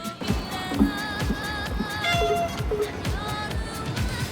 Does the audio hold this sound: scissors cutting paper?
no